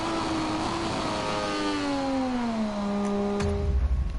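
Moto2 racing motorcycle engine on a timed lap, a loud close high-revving whine that climbs and drops through gear changes, with a rougher low burble near the end.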